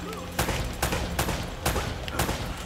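Sniper rifle shots ring out in Uncharted: Drake's Fortune, six sharp loud cracks at a fairly steady rhythm over a busy backdrop of game noise.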